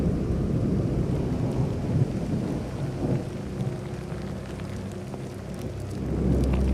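A thunderstorm with a steady wash of heavy rain and low rolling thunder, continuous and fairly close, with no voices.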